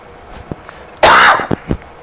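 A man coughs once sharply and loudly in a quiet room during a flight-simulator session, followed by a few small throat sounds and faint breaths.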